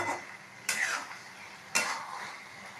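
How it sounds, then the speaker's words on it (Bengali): Eggs being stirred and sautéed in spice masala for an egg curry, two sharp scraping strokes of a spoon against the pan over a faint background sizzle, close and with no talk. "এবার এতে ডিম দিয়ে দেওয়া হবে। ডিম দিয়ে ডিমটাকে ভালোভাবে কষানো হবে।"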